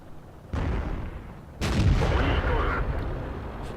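Tank cannon fire from a T-54 in the World of Tanks video game: two heavy booming shots about a second apart, the second louder with a rolling tail, over a game soundscape and a talking voice.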